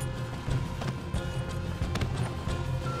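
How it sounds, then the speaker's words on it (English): Horses gallop in Red Dead Redemption 2, a fast continuous clatter of hoofbeats over rumbling background noise, steady and moderately close. "come on, we'll take those horses"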